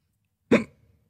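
A single sudden hiccup pops out close and clear, a brief voiced jolt that dies away quickly in a quiet setting.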